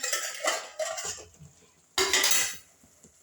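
A metal lid clanks off a pot of simmering Kerala fish curry, with several bright clattering knocks in quick succession, a pause, then another sharp metallic rattle, close and clear.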